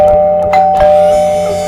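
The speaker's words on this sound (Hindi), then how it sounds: "मैंने डोरबेल बजाया।" A doorbell rings with a sustained electronic tone that stays loud and steady throughout, with a couple of faint clicks over it.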